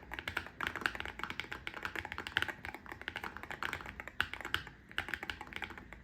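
Rapid, steady clacking of Wooting mechanical keyboard keys being typed on, close up and continuous, with no voices.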